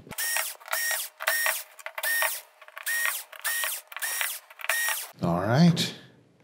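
A power screwdriver backs screws out of the main board of a Sony XBR-65A8F television in eight short, evenly spaced whirring bursts, close and clear, followed by a brief different mechanical sound at the end.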